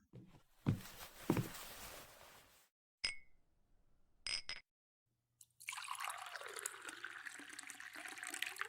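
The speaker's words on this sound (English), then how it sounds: "after I pour you a glass" Glass clinks, then liquid pours steadily into a glass for several seconds, close and fairly quiet, with no talking.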